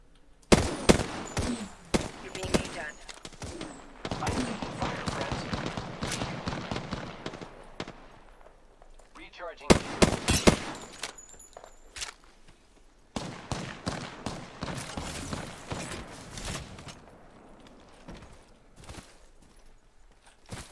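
Rapid bursts of gunfire ring out in the battle royale game Apex Legends, with dense automatic volleys, scattered single shots and footstep-like clatter, loud and close, breaking off briefly before resuming.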